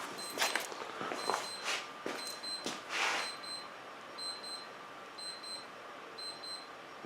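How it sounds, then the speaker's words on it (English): Short, evenly spaced high electronic beeps repeat steadily against a quiet background, with a few louder clattering bursts early on. "Uh-oh, something beeping."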